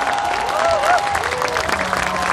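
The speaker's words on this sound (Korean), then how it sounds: "이분들께 여러분 박수 한 번만 보내주세요" Concert crowd at the Hongui Janggun festival in Uiryeong applauds a fan club, a short burst of continuous clapping with scattered cheers.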